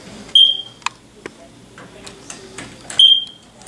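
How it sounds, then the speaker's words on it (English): Carbon monoxide detector under test sounds two short, loud electronic beeps about two and a half seconds apart, with ticking, clicks and room noise between them. "This is our carbon monoxide detector."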